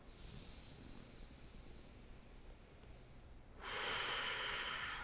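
Deep breathing during a morning yoga flow: a soft, steady airy breath that swells into a louder, broad exhale toward the end, heard alone.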